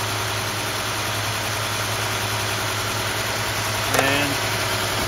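A Mercedes-Benz KE-Jetronic engine from a W124 or W126 sits idling with a steady, even hum and a constant high whine, close and continuous, as a brief voice cuts in near the end.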